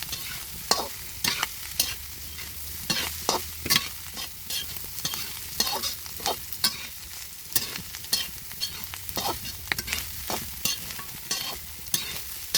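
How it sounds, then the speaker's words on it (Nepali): Chicken feet, wings and head fry with turmeric as they are stirred, a close, irregular series of scraping strokes and clatters over a steady sizzle, with no voices. "मजाले चलाउने"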